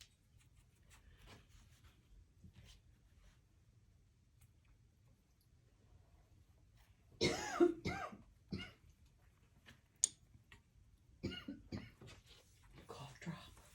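A person coughs in a quiet room during a watercolor painting session, giving a few harsh close coughs and throat clears in short clusters amid soft rustling and faint talk.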